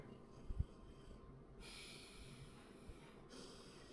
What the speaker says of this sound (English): Give it a sniff.